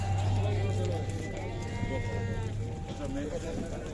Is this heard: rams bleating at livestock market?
yes